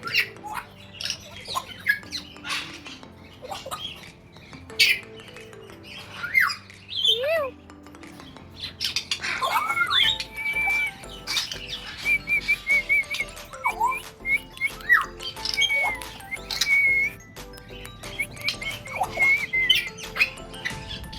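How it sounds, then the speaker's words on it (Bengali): Cockatoo squawks and whistles ring out in a busy zoo setting, repeated harsh calls and shrill bird cries over a continuous bed of other chirping birds and background chatter. "এই যে দেখেন কাকাতুয়া জাতের।"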